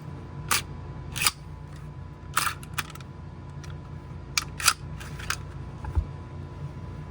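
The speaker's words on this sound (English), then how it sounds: "I'll slightly back off these set screws so we can continue taking the gun apart" Small set screws being backed off on the compensator of an FNX Tactical pistol chambered in .460 Rowland, heard as a scattered series of crisp, close metallic clicks and ticks from the tool at irregular intervals.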